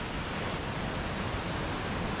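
A waterfall in the Chapada Indaiá area of the Cerrado at sunset gives off a steady, even rush of falling water, a continuous broadband roar with no voices.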